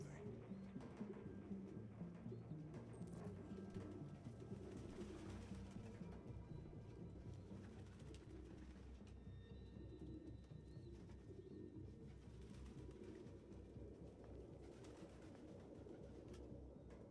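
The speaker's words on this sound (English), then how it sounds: "No human could live with all these fucking pigeons." Pigeons in the video game Detroit: Become Human coo softly and repeatedly over a low, steady ambient rumble, with the birds sounding near and continuous and no talking.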